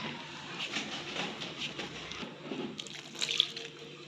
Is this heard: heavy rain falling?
no